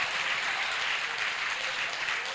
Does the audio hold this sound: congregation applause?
yes